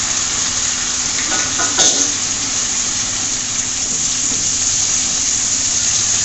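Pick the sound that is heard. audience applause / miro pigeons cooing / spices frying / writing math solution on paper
spices frying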